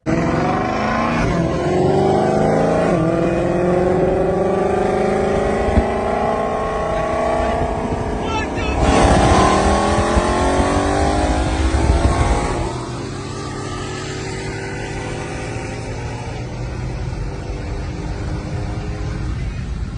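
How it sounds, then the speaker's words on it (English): A Dodge Demon 170 launches hard at a drag strip, its engine roaring loudly and climbing in pitch through successive gear sweeps before the sound drops to a lower, steadier drone. "So these Demon 170s, they're launching, they're launching at like 2G"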